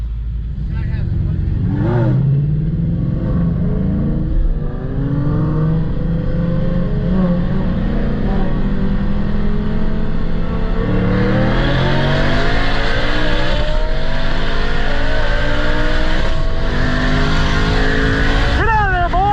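A turbocharged stick-shift Mustang racing a supercharged Lamborghini, a loud close engine roar rising through the gears with shifts and revving, ending in a short tire squeal, with people shouting over it.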